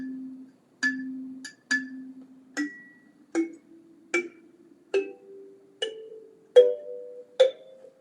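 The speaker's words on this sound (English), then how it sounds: "A kalimba is like a teeny tiny little thumb piano." Single plucked metallic tones from a kalimba thumb piano ring out one at a time, about ten notes spaced evenly, each decaying quickly, close and fairly quiet.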